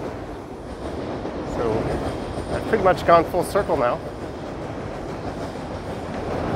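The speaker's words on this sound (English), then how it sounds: "As another train rips past." A train rushes past near Toronto's Keele Wall by Bloor Street, a rumbling roar with clattering wheels and brief squeals building and fading, while someone talks over it.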